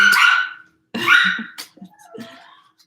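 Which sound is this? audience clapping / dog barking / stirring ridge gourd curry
dog barking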